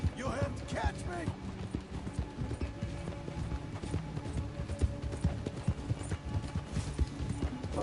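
Horse hooves in Red Dead Redemption 2 clop in a fast, steady galloping rhythm, moderately close, under game music and people talking.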